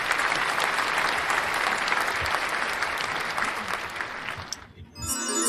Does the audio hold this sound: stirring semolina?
no